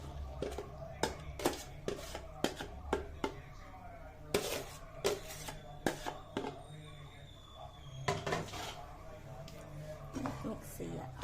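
Fried chicken tipped into a pan and stirred for chilli chicken, giving a run of sharp spoon-on-metal clanks and scrapes in irregular bursts, close and fairly loud, with a low steady hum underneath.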